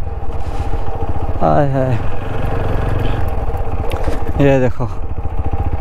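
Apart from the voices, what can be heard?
motorbike riding over grass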